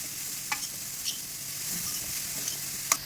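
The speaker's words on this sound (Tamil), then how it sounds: "நெய்யிலே நல்லா வதங்கணும்." Half a kilo of grated carrot with cashews and raisins sautés in ghee in a pan, giving a steady close sizzle broken by a few brief scraping stirs.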